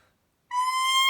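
A recorder squeaks when blown too hard, giving a sudden shrill, piercing high tone that starts after a brief silence and holds steady, heard alone.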